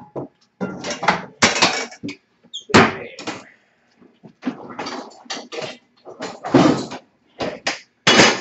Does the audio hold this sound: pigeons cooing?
no